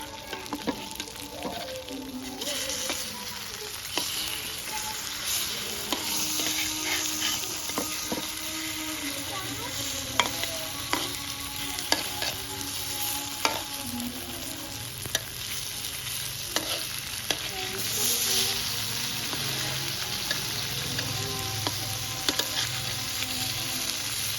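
Fish fries in a pan with no oil, giving a steady soft sizzle broken by occasional scrapes and clicks from stirring or turning, continuous and close throughout.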